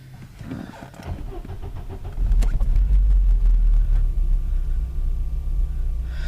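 A Peugeot 406 2.0 turbo car cranks briefly, then its engine catches around two seconds in and settles into a loud, steady low rumble of idling, heard close and without talk.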